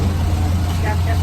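A heavy bus engine drones with a steady low hum at full throttle, loud and close, while a voice talks over it.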